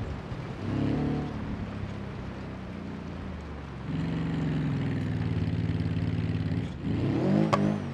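Subaru engine in the BeamNG.Drive driving game revving on a dirt road, a steady mid-pitched drone that surges louder in two pushes with a brief dip between, no talking.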